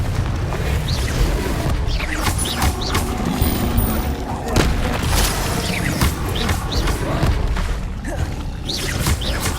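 Repeated Confringo blasting-curse explosions from the Hogwarts Legacy video game, a dense run of booming blasts and crashes layered over continuous battle noise, loud and close throughout.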